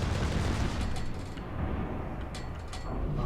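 Naval video game battleship Nagato fires armour-piercing shells from its main battery, a dense, rumbling barrage of booming gunfire that stays loud throughout, with a few sharper cracks layered over the sustained low roar.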